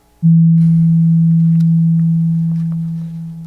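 A steady pure tone at the second harmonic that starts abruptly and holds for a few seconds, slowly fading slightly in loudness.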